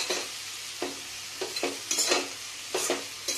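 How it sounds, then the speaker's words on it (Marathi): A dry capsicum and potato vegetable dish stirred in a pan, with repeated scraping, sizzling strokes in an uneven rhythm, close and moderately loud, with no voices. "व्यवस्थित एकदा मिक्स करून घेऊ आपण।"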